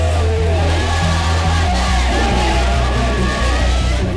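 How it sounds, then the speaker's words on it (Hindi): Dense crowd at a Hizbul Mujahideen militant's funeral in Kashmir, a continuous loud roar of many voices with shouting and chant-like calls, close and unbroken. "ये भीड़ हिजबुल मुजाहिदीन के आतंकी रईस कचरू और फारूक अहमद हुर्रा के अंतिम संस्कार में जुटी"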